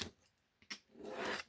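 Scissors snip paper for a junk journal pocket, giving a couple of short, quiet cuts followed by a longer soft slicing rasp, close up with no talking.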